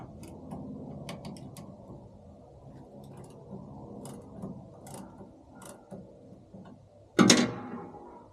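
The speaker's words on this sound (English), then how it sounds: "So we just got a handy little ratchet wrench that I keep in here for adjusting it. It's 13 mil." A 13 mm ratchet wrench loosens the chain adjuster bolts on a motorcycle, giving faint clicking ratchet sounds and soft metallic handling noises, then a sharper louder clunk near the end.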